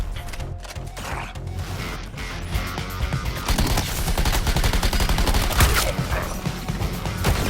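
Dense bursts of gunfire rattle through a chaotic fight in Suicide Squad: Kill the Justice League, a loud continuous barrage mixed with mechanical clatter and impacts.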